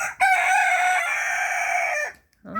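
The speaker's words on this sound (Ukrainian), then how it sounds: "вони вже кукарікають. Дуже смішно і дуже таким хрипким голосом" A rooster crows once, close and loud, in a long hoarse, raspy call that cuts off abruptly, followed by a brief quiet and another sound starting.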